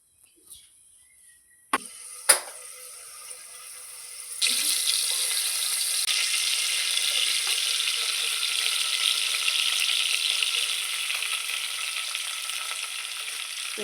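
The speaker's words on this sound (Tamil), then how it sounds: "மீன் பொரிச்ச எண்ணெயை ஊற்றிக்கிட்டேன்." Oil left from frying fish is poured into a hot pan to start the gravy for fish biryani. A few clinks come first, then a loud, steady sizzling hiss sets in and continues to the end.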